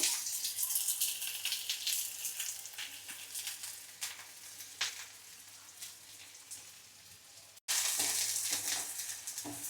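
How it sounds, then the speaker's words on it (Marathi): Onion frying in hot oil in a kadhai, a continuous crackling sizzle full of small pops, with a brief break before the sizzling resumes. "आपण कांदा चांगला भाजून घ्यायचा परतवून घ्यायचा ह्याच्यामध्ये तेलामध्ये"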